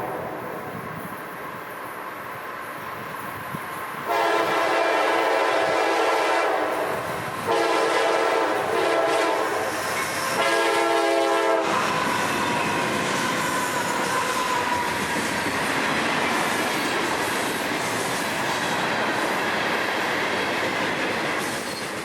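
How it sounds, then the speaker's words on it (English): A loaded southbound rock freight train led by GE wide-cab locomotives passes at full track speed on a Florida main line: a loud, sustained roar of wheels and cars, with a strong horn blast sounding in broken sections early on. "here comes another Southbound, also doing every bit of track speed, with a loaded train of rock for Central Florida"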